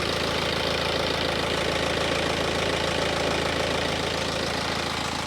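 A BMW 3 Series diesel engine idling, heard close up as a steady, even, slightly knocking rumble with a constant drone and no variation in speed throughout.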